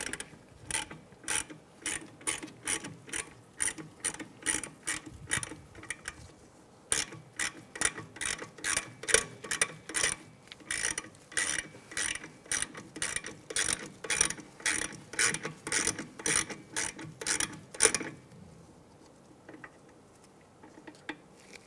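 Ratchet tightening a bolt on the rear brake bracket of a 2003-2011 Honda Element, a steady close series of sharp metallic clicks in quick rhythmic strokes that stop near the end, leaving quiet.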